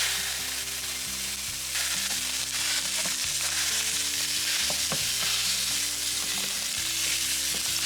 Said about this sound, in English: I'm gonna add 1 pound of lean ground beef to our skillet